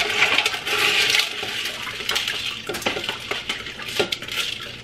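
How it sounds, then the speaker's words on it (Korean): Small gravel stones poured and sprinkled into a saltwater aquarium over fine sand, a continuous close rattling patter with scattered sharper clicks of pebbles landing. "그 위에 이런 자잘한 돌들, 자잘한 돌들을 이렇게 뿌려줄게요"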